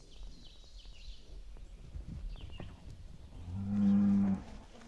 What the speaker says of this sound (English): Some curious cows wander through and scare the turkeys away.